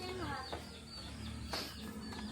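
Backyard chickens belonging to a family's father cluck and call in a noisy farmyard, several birds overlapping at close range with a steady din and bits of talk underneath.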